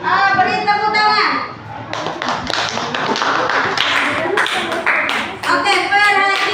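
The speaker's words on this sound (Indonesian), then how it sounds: "Beri tepuk tangan." A classroom of children clapping hands for a group that has finished its work, brief bursts of claps mixed with chatter and children's voices.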